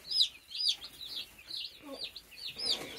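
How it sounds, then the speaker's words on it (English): Baby chicks, among them a surprise chick, peep in a brooder. Bright, high chirps repeat in short bursts, close and fairly clear, with a faint rustle underneath. "It's one of those surprise chicks or whatever."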